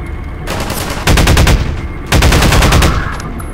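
Automatic gunfire in Half-Life 2, two loud rapid bursts of rattling shots close up, separated by a short gap with lingering noise between them.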